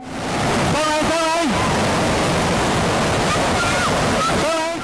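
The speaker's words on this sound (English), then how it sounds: "They manage not to get taken out to sea, but they still do get slammed by the powerful waves." Powerful ocean waves crash and roar on a beach in Malaysia, a loud continuous surf wash with shouting voices breaking through over it.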